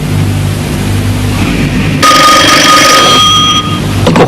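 A loud electronic telephone ring starts partway through, a warbling tone that stops after about a second and a half, over a steady low hum.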